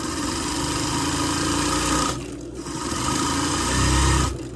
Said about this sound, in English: I'm gently pulling on it and I'm letting the sewing machine stretch it.